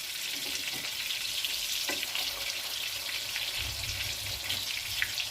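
Eggplant and minced meat cutlets sizzle and crackle steadily in a hot pan, a dense frying hiss with occasional pops and a low thump partway through.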